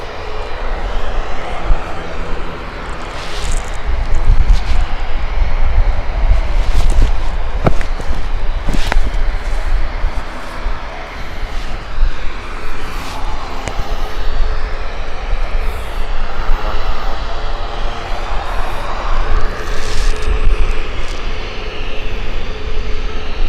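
An EasyJet airliner lands at Gatwick Airport, its engines rumbling steadily at moderate distance with a slight swell midway, while faint voices murmur.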